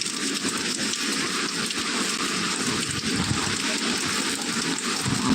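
Steady rain, a dense unbroken hiss that holds at even loudness throughout, with no voices.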